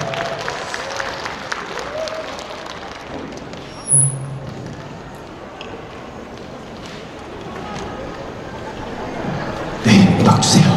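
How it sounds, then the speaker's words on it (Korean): Audience applause at a year-end concert during a dried persimmon festival, broad and fairly even for most of the stretch, with a bump near the middle and a louder burst toward the end where cheering or voices join in. "마지막 곡이니만큼 큰 박수와 응원 부탁드리도록 하겠습니다."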